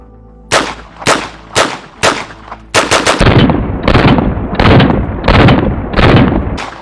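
Submachine gun fire from an MP5K and an APC-9K, starting as several loud, distinct single or short-burst shots, then becoming a dense run of rapid, heavy bursts that repeat close by.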